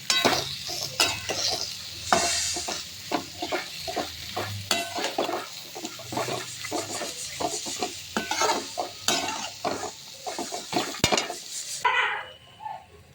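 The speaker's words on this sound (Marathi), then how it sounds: "यामध्ये आपण कापलेली गोलभेंडी किंवा कापलेले ढेमसे घालून घेऊ आणि व्यवस्थित एकत्र करून घेऊ" Chopped round gourd being stirred into spiced masala in a pan, with repeated scraping and clanking of a spoon against metal over a sizzling bed, fairly close and busy until the stirring stops near the end.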